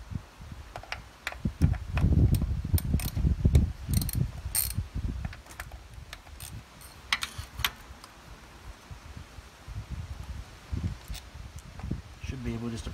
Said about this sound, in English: Now I'm going to take my 10 millimeter. I'm going to take these bolts right here out.